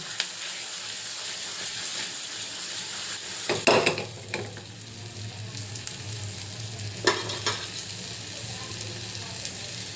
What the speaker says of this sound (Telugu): ఎల్లుల్లిపాయల తర్వాత ఉల్లిపాయలు వేసుకున్నాం వీటిని వేయించుకోవాలండి